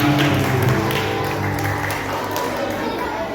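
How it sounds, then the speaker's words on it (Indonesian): A church congregation at a Christmas service applauds with full, sustained clapping that gradually eases, with voices and chatter mixed into the crowd. "Beri tepuk tangan untuk Tuhan"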